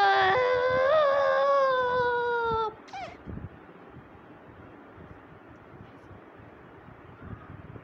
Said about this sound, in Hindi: बिल्ली भी मियाँ मियाँ कर रही है